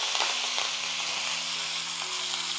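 Dried chillies, asafoetida and curry leaves sizzle in hot oil during tempering for tomato dal, a steady close hiss with faint crackles and no voices.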